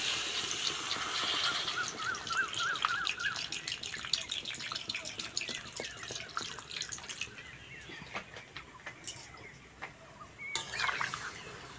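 Water is poured from a tap into a pan of new potatoes for aloo dum, a light dripping, splashing stream fading into scattered drips.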